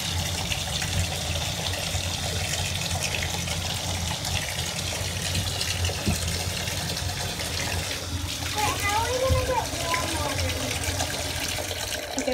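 Water runs steadily from a tap into a bathtub holding Orbeez, a constant gushing rush with small splashing bubbles toward the end; a voice talks faintly beneath it.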